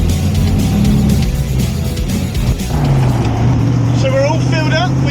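A V8 car engine drives along on a sunny cruise to a Devon V8 meet, holding a steady, close low rumble while a person talks over it.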